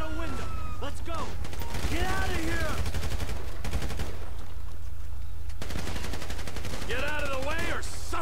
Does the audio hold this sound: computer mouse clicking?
no